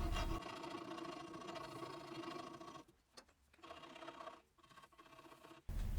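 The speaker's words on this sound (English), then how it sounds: "I will file it down and blend it with the handle" A file rasps steadily over Osage orange wood on a recurve selfbow, blending a glued piece into the handle, in quiet rhythmic strokes that pause briefly partway through.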